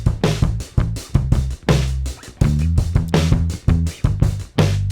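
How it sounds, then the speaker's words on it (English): A punchy drum loop with a deep bass line repeats steadily, kicks and snares hitting in a driving rhythm, loud and alone. "just a little drum track, a little bass track"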